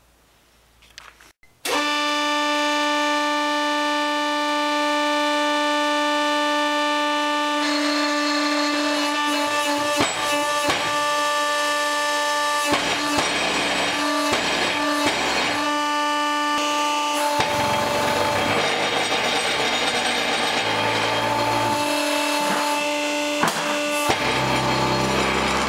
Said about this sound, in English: put it over in the press, and we're going to press the remnants of that sleeve out